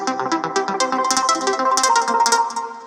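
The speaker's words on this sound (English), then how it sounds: "So it arpeggiated all the notes, which is the sound you're hearing." A GarageBand Rising Waves synth patch with its arpeggiator running, spilling a quick, even cascade of bright plucked notes that step through a chord, loud and alone with no voice over it.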